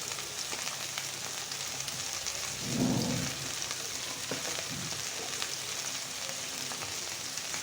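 Taro stolons (kochur loti) fry in a pan with a soft, continuous sizzle and crackle, broken by a brief louder muffled stirring rush near the middle; no one speaks.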